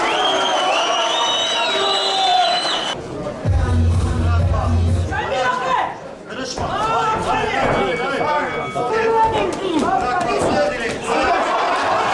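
Spectators at a boxing tournament in Van cheer and whoop in a dense, steady crowd roar, with overlapping voices and chatter running throughout.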